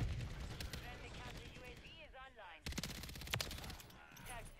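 Turret gunfire in a video game, rapid bursts of shots rattling in quick succession, loud and close over busy game sound, with a brief lull midway before the firing resumes.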